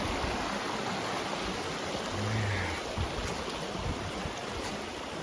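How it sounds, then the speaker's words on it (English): Floodwater from an overflowing creek rushes steadily across ground that is normally dry, a dense, unbroken wash of running water with no voices. "Creek goes out there, but it's running over here."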